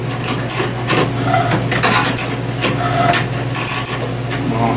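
Repeated scraping, clicking strokes come from a homemade saw tooth setter jig being worked along a blade, loud and close in an irregular rhythm with no talk.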